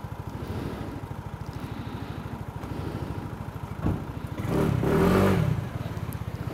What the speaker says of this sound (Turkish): Bu arada karda ilk defa motora biniyorum.